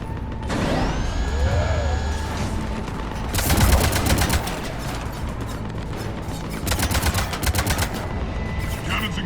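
Cannons firing in Mass Effect 3 Legendary Edition, Omega DLC: rapid rattling volleys of heavy gunfire in bursts, with mechanical whirring and sweeping tones between them, loud and close.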